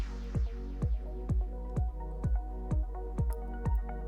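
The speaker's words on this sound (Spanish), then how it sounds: "Y ahora vamos a echar las 2 hojas de laurel, que se fría también con todo el sofrito" Two bay leaves frying in a sofrito for lentils with preserved pork loin and ribs give a quick series of regular sizzling, popping crackles over a low steady hum.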